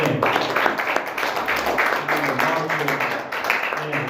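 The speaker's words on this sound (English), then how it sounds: "Let's give Omega a hand clap." A church congregation clapping together in steady applause for a few seconds, close and fairly loud, with voices mixed in.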